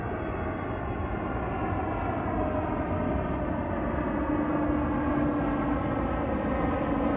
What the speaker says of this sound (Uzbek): Samolyotimiz keldi.